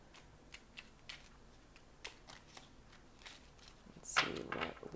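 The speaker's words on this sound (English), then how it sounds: "We're going to go ahead and shuffle." Soft riffling bursts of tarot cards being shuffled, several quick flutters spaced apart, close and quiet, ending in a longer, louder riffle.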